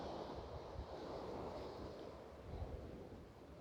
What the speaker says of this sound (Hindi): इन समुद्र की लहरों का आनंद लीजिए